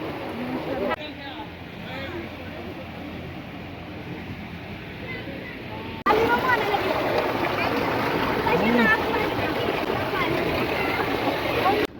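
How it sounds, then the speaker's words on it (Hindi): A tubewell running with water gushing out into the open, a steady broadband rush of flowing and splashing water that grows louder halfway through, with voices audible under it. "ट्यूबवेल चलता रहता सारा दिन, पानी पैंदा रहता।"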